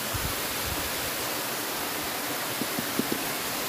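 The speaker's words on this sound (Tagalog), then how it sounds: "dito po kami sa yung pinakamahabang falls ng Xiongling" A long waterfall on the Sheung Lin stream roars as a steady, broad rushing wash of falling water, constant and fairly loud up close, with a few soft low thumps near the end.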